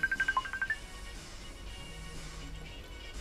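A phone chimes with a short run of bright repeated electronic tone pulses, an SMS alert heard near an ATCO Admiral mower, followed by low background hum with no one speaking.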